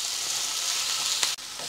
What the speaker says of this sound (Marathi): तर हे सगळे जिन्नस आपल्याला अगदी खरपूस भाजून घ्यायचे आहेत